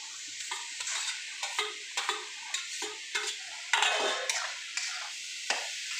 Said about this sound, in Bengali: এবার আমি আলু বেগুনগুলো দিয়ে দিলাম।